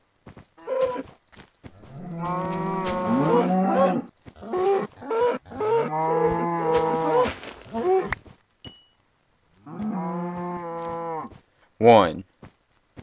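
Cows mooing in Minecraft, several long loud drawn-out moos in close succession with short clicks and gaps between, ending in a brief sharp squeal.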